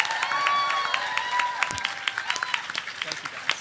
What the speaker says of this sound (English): Can we get a round of applause for all of our readers?